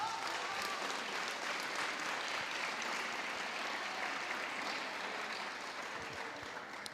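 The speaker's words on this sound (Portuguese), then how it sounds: "Vamos aplaudir Jesus." A church congregation claps steadily in worship, a dense, even wash of applause that sounds somewhat distant and soft and runs unbroken for about seven seconds.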